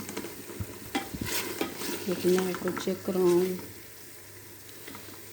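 Mutton curry masala frying in a pan and being stirred, with soft sizzling and several scraping strokes of a spoon, partly under a person talking.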